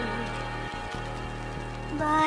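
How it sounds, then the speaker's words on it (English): A GarageBand beat plays a strings sample layered with vinyl crackle, sustained low string tones and steady hiss with faint pops, continuous and fairly loud, no talk. "This is what it sounds like with the other vinyl crackling and strings."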